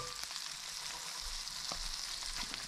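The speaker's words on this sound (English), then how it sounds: "Our Brussels sprouts are going to go right into the same pan with the bacon fat." Brussels sprouts fry in bacon fat in a pan, giving a dense, continuous crackling sizzle with a few small pops, close and steady, with no voices.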